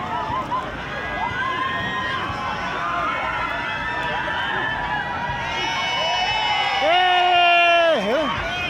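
Many voices at a festival shout and cheer together from a distance, a sustained crowd roar with some nearer calls and a loud whoop near the end.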